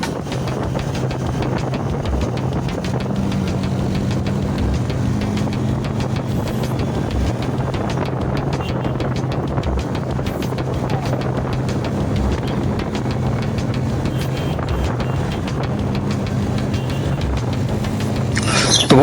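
A 2025 Honda SP 125 motorcycle running flat out on an open road beside other bikes, its steady engine drone buried under constant heavy wind rush, with no talking.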